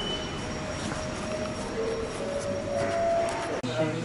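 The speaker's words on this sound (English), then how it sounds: "Now I take Hankyu railway heading to Nagasaki City." A Hankyu Railway train rumbles steadily along the tracks with a thin high whine over the noise and a brief thump near the end.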